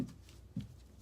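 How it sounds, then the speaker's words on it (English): A tarot card deck gets a quick shuffle, two soft riffling bursts, one at the start and one halfway through, close and quiet with no talk. "just going to do one more quick shuffle"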